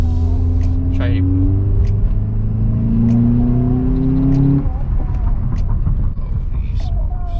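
Revving induction noise from a 2008-12 Honda Accord with a 2.4L engine and cold air intake, heard from inside the car as the engine note climbs steadily, then drops as the throttle closes, with people talking over it.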